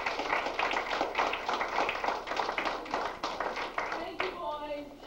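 A small audience claps after a scene in a murder-mystery play reunion, fairly close, uneven clapping with audible individual hands, tapering off as a voice begins to speak near the end.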